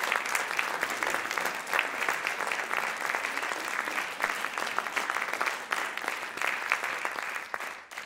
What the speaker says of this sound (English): I think I deserve a big round of applause